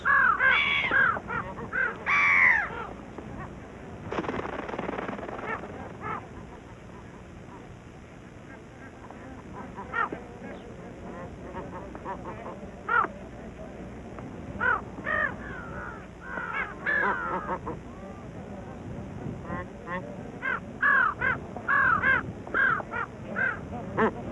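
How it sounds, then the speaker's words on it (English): Brown-headed gulls in Ladakh, scavenging among geese and broken eggs, give harsh, cawing calls that repeat throughout, loud at first and then scattered, over a steady outdoor background. "Another scavenger, the brown-headed gull, has come to profit from the chaos."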